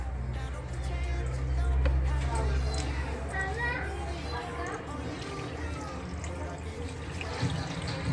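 Water poured over rocks into an aquarium built onto a Royal Enfield motorcycle trickles and splashes steadily, while someone talks throughout.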